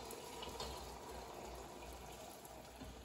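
Strained bone broth poured carefully from a pot, a faint, steady gushing stream of liquid running continuously in a quiet kitchen.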